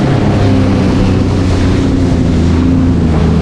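Sea-Doo personal watercraft engine held at full throttle on open water, a loud steady motor drone with wind buffeting the microphone and water rushing throughout, no voices.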